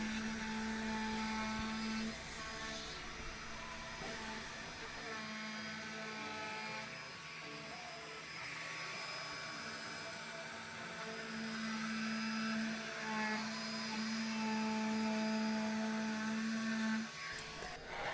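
A router rounds over the edges of a wooden piece for a glue shear strength tester, a steady high whine running continuously throughout, close and loud with no talking.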